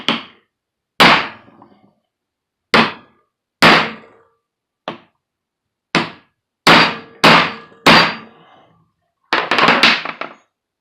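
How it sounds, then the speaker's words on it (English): A medium-size hammer strikes a punch on a CV head yoke during assembly, ten loud metallic blows arriving singly and in pairs at uneven intervals, the last few coming in a quicker burst. "Medium size hammer."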